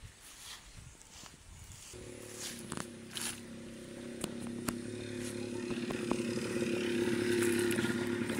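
A motorbike belonging to power company officials pulls away from a village home in Kenya, its engine a steady droning hum that grows gradually louder, with a few sharp knocks over the top.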